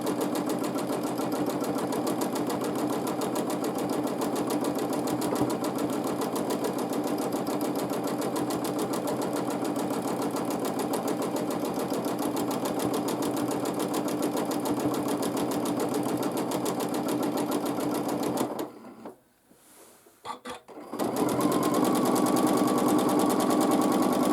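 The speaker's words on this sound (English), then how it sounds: "now we are ready to quilt another." Sewing machine doing free motion quilting, a steady, close mechanical whir with rapid needle rhythm running continuously, briefly stopping for a second near the end before starting up again.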